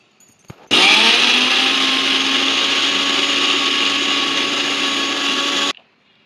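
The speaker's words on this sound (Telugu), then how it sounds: "పచ్చిమిరపకాయలు వేసి మిక్సీ పట్టుకోవాలి" A mixer grinder whirs loudly and continuously, grinding soaked lentils with green chillies, ginger, garlic and salt, starting abruptly after a small click and cutting off cleanly near the end, close by with no speech.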